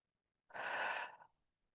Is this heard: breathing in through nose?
yes